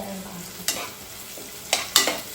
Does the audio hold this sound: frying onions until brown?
yes